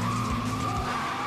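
A car drifting with its tires skidding: a loud, sustained squeal with engine drone underneath, heard close and continuous for a brief moment.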